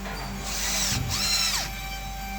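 A power drill drives a screw into a hinge on a steel multipurpose cabinet door, a loud sustained whine that rises and dips as the screw seats, heard alone.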